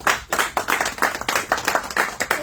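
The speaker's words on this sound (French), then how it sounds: "Applaudissons pour lui." Audience applause at a press conference tribute in Brussels, a brief burst of steady, moderately loud hand clapping from a small crowd, with no talking over it.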